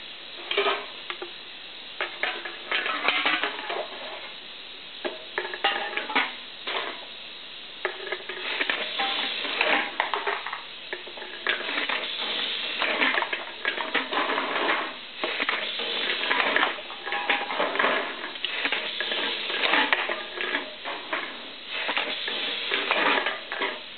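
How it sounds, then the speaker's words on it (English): Automatic pneumatic can crusher feeding and crushing aluminum cans, a steady run of irregular clanks and crunches over a continuous hiss of air, loud and close with no voices. "So I'll hit the air, feed some cans in there, and see if it jams up again."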